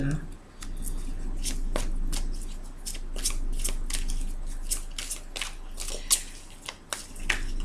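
Tarot cards are shuffled and drawn in a series of soft, crisp slaps and flicks, irregular and close, under someone speaking.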